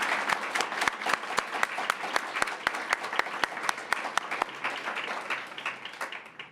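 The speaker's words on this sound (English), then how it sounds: "if we could all just applaud for him and all our crossing guards so they can hear us" Applause from an assembled audience for school crossing guards, with a few sharp, evenly spaced loud claps standing out over a softer, steady patter that thins toward the end.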